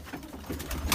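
Pigeons cooing outdoors around a deck where the birds are kept, soft repeated throaty coos over steady background noise, moderately near with a louder call at the end.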